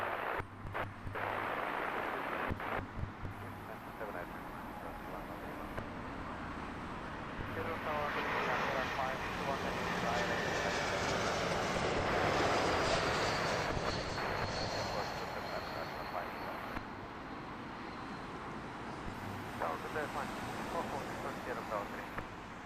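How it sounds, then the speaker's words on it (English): Airbus A220 jet at Heathrow Airport in the evening, a steady broad engine roar swelling to a peak mid-way and then easing off, heard from a distance with a faint voice over it. "What a great looking jet the A220 is."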